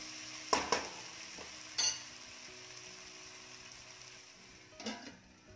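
Finely chopped tomato sautéing in a pan for a Malvani-style egg curry, with a few sharp utensil clinks and scrapes over a faint, steady sizzle.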